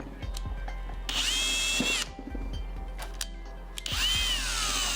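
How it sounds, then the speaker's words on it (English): A power drill punches a hole through a wooden enclosure top for a 3D printer, with two loud whining bursts of the motor revving up under load, separated by quieter clunks and handling noise, close by and with no speech. "I'll break out my Big Drill Energy, or BDE for short, and punch a hole through the top."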